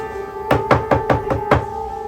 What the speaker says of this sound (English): he hears a knock on the door